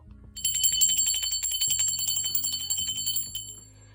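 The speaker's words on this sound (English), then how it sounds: "I'm going to ring the bell for my spirit guides, guardian angels, and ancestors" A small, bright bell rung for a spiritual ritual chimes loud and close in rapid repeated strikes, its ringing tones layering and sustaining before fading at the end, with no talking.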